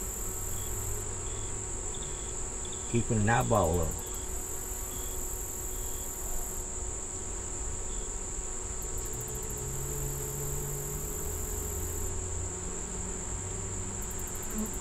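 Honey bees buzz steadily around the entrance of a five-frame nuc hive with a yellow-marked queen, a constant close drone with a brief louder pass near the microphone and a few quiet spoken words.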